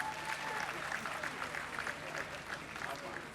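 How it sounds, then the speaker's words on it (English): An audience at a live comedy show claps for a performer, a sustained, even patter of many hands at moderate volume, with talk mixed in underneath. "help me clap for Pencil."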